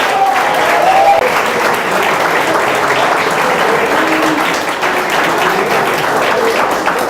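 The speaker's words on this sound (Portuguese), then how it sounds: "Pode aplaudir." A church congregation applauds warmly and steadily for several seconds, dense clapping filling the room, with a few voices faintly audible beneath it.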